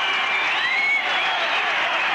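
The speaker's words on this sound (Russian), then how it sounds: "Вы слышите, как радуются челябинские болельщики, ликуют." Hockey fans in the Chelyabinsk arena cheer and applaud after a home goal, a dense, continuous roar of crowd noise heard at a distance and filling the whole stretch.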